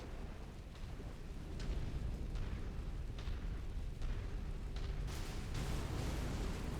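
An enemy vehicle exploding in a mech combat video game, a dense rumbling blast and burst texture with repeated booming hits, loud and continuous, with no voices.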